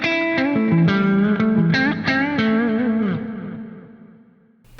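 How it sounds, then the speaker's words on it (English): Clean guitar phrase with bending notes ringing out into a vast, lingering Opera House reverb from a Fractal FM9 that decays slowly after the playing stops. "Different reverb, the Opera House, which is one of the newer reverb types"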